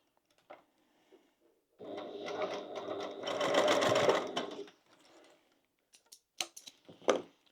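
A sewing machine topstitches across a crossbody bag in one sustained run of several seconds, preceded by small clicks and followed by scattered handling taps and knocks.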